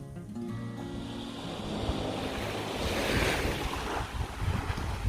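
Ocean waves wash onto the beach at Khlong Nin on Koh Lanta, a steady broad surf roar with gusts of wind buffeting the microphone, swelling louder toward the end.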